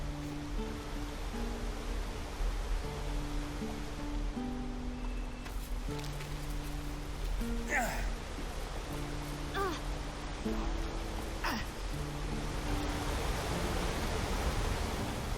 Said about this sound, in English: This is the other side of the waterfall we just saw.